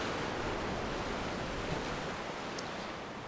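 Steady ocean surf washes onto a sandy beach in a continuous, even roar without distinct breaking crashes, with no voices over it.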